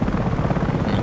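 Helicopter in the online shooter Battlefield Play4Free, a steady, dense rotor and engine roar with rhythmic chopping, loud and close throughout the short stretch.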